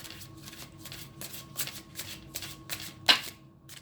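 Tarot cards shuffled by hand in a steady run of soft riffling bursts, roughly eight quick flutters with a sharper snap near the end, close and fairly quiet with no talking.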